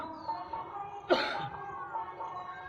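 A single sharp cough bursts out close by, surrounded by quiet background noise.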